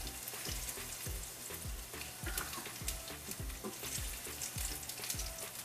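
Cumin seeds and dals frying in hot oil for a South Indian tomato chutney, a dense continuous sizzle crackling close up, with regular soft scraping strokes of a stirring spoon running through it.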